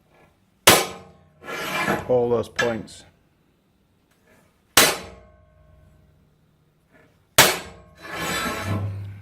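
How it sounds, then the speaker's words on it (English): A hammer strikes a center punch to mark steel box section for drilling, three sharp ringing metallic blows spaced seconds apart, with someone talking between them. "center punch, hammer, and we're just going to work our way along the box, just marking off, ready for drilling"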